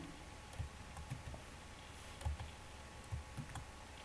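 Quiet, irregular key taps on a computer keyboard at a lab workstation, a few soft clicks spaced out over several seconds against a faint room hum.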